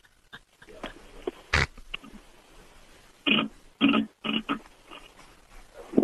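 A voice imitates a fart, giving short raspy bursts and sputters, then a sequence of louder, wetter blasts separated by brief pauses, with quiet murmuring underneath.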